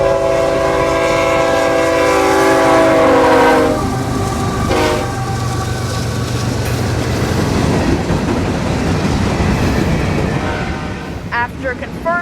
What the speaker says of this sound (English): the ethanol train got to the siding first, so he waited while the freight train passed him